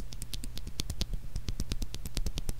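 A mechanical keyboard switch lubricated with milk cream is pressed over and over in quick, uneven succession, producing close, crisp clicky taps against a steady low hum, with no voices.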